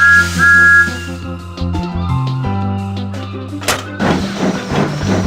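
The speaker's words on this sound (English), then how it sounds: "Let's blow the whistle." A cartoon steam train whistle sounds at the start in a short, loud, piercing blast, then gives way to chugging engine noise and background music with animated clanks.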